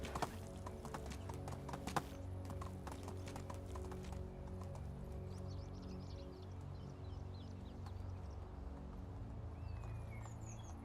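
Horse hooves clip-clop in Medieval Dynasty, a quick rhythmic patter of steps at moderate level, with faint birdsong in the background and no voices.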